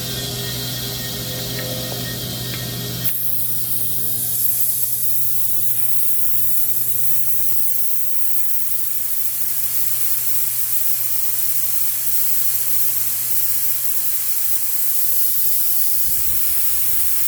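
Propane rushes out of an opened vent valve on a tank in a steady, loud hiss. After an abrupt onset it runs on continuously to the end of the clip, with no voices.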